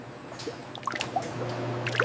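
Liquid batter drips and trickles off fish pieces lifted out of an enrober batter bath in a fish and chips factory, scattered soft wet drops over a steady machinery hum.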